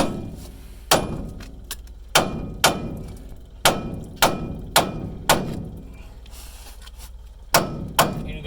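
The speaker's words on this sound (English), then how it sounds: "use a flathead screwdriver or a chisel and then a hammer" A hammer drives a chisel against a stuck front axle spindle nut, about a dozen sharp metallic blows at an uneven, roughly steady pace, close and loud with no talking.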